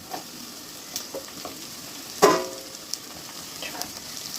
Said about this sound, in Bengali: এবার দিয়ে দেবো ক্যাপসিকাম আর পেঁয়াজ কুচিটা একসাথে